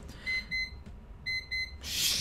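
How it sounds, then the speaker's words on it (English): An alarm clock rings indoors in short paired electronic beeps, two bursts, a pause, then two more, fairly loud and close, followed by a burst of noise at the end. "Forgot to turn off my alarm clock today"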